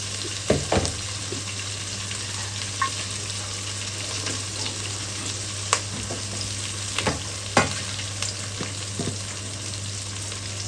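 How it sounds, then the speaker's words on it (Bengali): Oil sizzles steadily as chopped onions fry in a pan with a constant hiss, and occasional clicks and scrapes of stirring break through. "ভাজা ভাজা হোক একটু লাল লাল হোক এখন আবার পেঁয়াজ কুচি দিয়ে দিচ্ছি"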